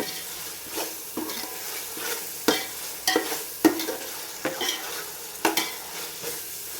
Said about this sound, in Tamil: இந்த அளவுக்கு தக்காளியை நல்லா வதக்கணும்